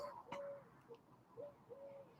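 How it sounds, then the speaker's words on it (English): Pigeons coo softly somewhere nearby in warm weather, a few low, hollow calls spaced unevenly and faint against quiet background noise. "Yeah, there's pigeons around here."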